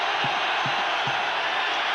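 Steady crowd roar fills a stadium during a 1990 NFL game between the Los Angeles Raiders and the Buffalo Bills in Buffalo, a dense, constant wash of noise with a few soft low thumps underneath.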